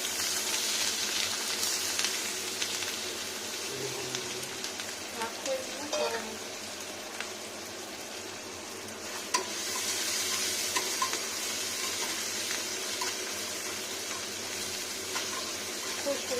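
Ginger paste and two dried red chillies sizzling in hot oil with five-spice tempering for a Bengali egg curry, a steady close frying hiss with occasional stirring scrapes and clinks.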